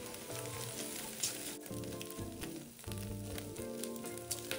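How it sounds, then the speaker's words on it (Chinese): Dried shrimp and shiitake mushrooms frying in hot oil in a wok over medium heat, a steady crackling sizzle with a low rhythmic pulsing background throughout, no voices. "炒至虾米溢出香气后，再加入蒜末15克"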